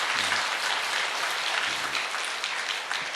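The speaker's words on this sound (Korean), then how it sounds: "우리 박수로 환영하겠습니다" A church congregation applauds to welcome newcomers during a Sunday service, with dense, steady clapping that fills the whole stretch at an even, fairly loud level and no talk.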